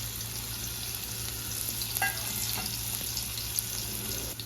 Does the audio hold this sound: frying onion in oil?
yes